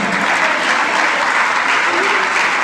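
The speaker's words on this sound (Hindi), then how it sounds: "ताली बजाओ ना" Audience at a Hindi religious discourse for a Chaturmas kalash sthapana clapping steadily, a dense, loud, unbroken wash of applause.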